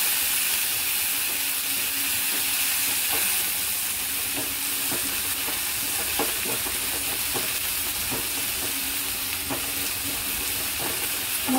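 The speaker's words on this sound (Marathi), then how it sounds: "मस्त ह्या तुपामध्ये हे सगळं फ्राय करून घ्यायचं" Tomato, green chilli, carrot and peas fry in ghee for upma, a steady broadband sizzle with scattered stirring clicks and scrapes, close and continuous, no voices.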